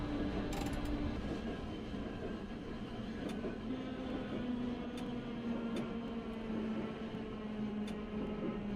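A city tram runs on rails through Hakodate, Japan. It gives a steady, continuous rumble with a droning motor hum that shifts slightly in pitch, and a few faint metallic ticks and clicks from the wheels.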